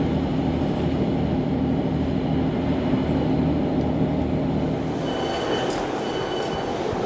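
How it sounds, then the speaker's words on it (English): A passing passenger train to Chester rumbles loudly and steadily, wheels rolling on the rails with a constant low roar and faint squeal near the end. "Get this Chester train."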